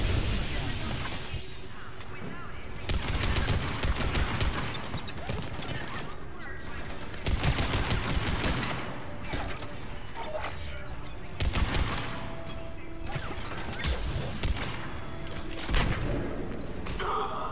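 Gunfire in the video game Mass Effect 3, repeated bursts of shots and thudding impacts in clusters every few seconds over a continuous noisy battle background, fairly quiet overall.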